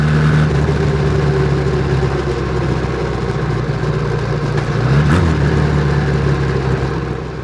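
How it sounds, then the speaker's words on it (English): An Ariel Square Four motorcycle engine rumbles steadily through chrome exhaust pipes on both sides, a loud, close, even idle with a brief blip partway through, with no talk. "has a unique sound coming out of these chrome pipes on both sides, unlike any other bike you're ever going to see."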